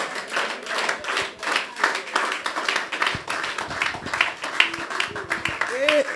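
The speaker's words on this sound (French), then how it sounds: "On peut applaudir à la gloire de Dieu." Church congregation clapping in fairly quick rhythmic claps that run throughout, mixed with voices and singing-like tones rising over the clapping toward the end.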